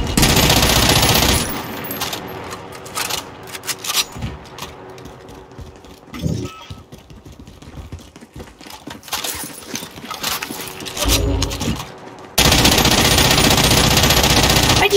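Rapid automatic gunfire from FFAR and LC10 rifles blasts in the Warzone zombies mode video game, loud bursts at the start and end with scattered shots between, while players talk over the action.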